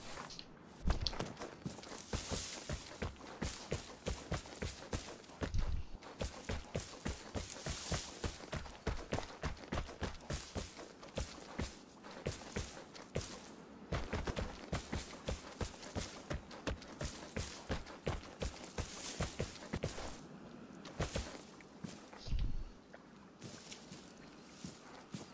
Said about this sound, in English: I keep hearing footsteps behind me